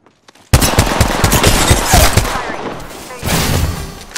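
Apex Legends gunfire: a sudden burst of rapid automatic shots, loud and close, followed by scattered further bursts and in-game chatter.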